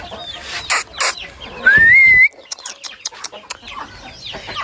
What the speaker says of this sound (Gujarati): પછી આ જુઓ ફાઉન્ટેન મરઘા.